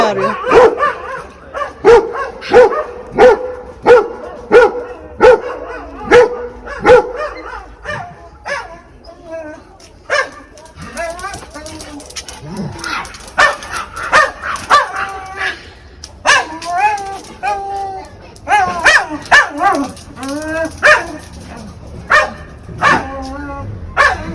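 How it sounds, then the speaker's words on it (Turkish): A small puppy yaps in quick, high bursts at people, repeatedly and close by, with whimpers and yips in between, while people talk over it. "minnacık bir köpek yavrusu gezdiriyor sahipleri. O da bunlara havlıyor, kafa tutuyor."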